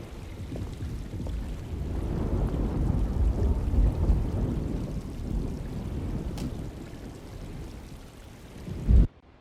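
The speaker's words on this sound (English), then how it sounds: "Just keeping an eye out for the storm." Steady rain pours with a low rumbling storm underneath in the survival horror game Alone in the Dark on PS5, a constant wash that holds throughout and ends in a brief louder thump.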